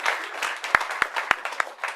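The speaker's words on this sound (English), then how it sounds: "On peut l'applaudir également s'il vous plaît, Gretchen." Thin applause from a small press conference audience for a snowboarder at the Winter X Games in Tignes, a brief patter of clapping with a few sharp, distinct claps standing out.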